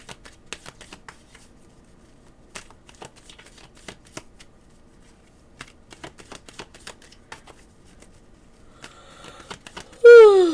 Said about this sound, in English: So let me start already shuffling.